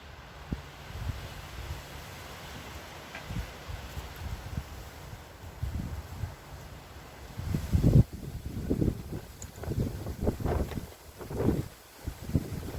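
Wind gusts across the microphone in low rumbling bursts, quiet at first and growing stronger and more frequent toward the end.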